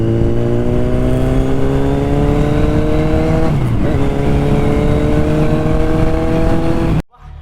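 A car engine drones steadily and loud with rising harmonics as it accelerates to overtake on a bumpy road, ending in a sudden drop near the close.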